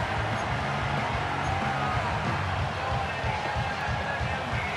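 Steady, dense roar of a stadium crowd in Madden NFL 25, football game with the Cowboys' Dak Prescott on offense, holding a constant loud wash with some low rumbling throughout.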